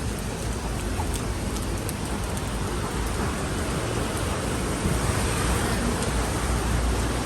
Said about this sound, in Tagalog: Mula kaninang umaga, ganito yung ulan, walang tigil.